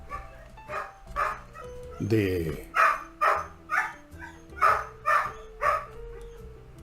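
Dogs barking loudly nearby in a rapid, regular series of about eight sharp barks, with someone talking at the start.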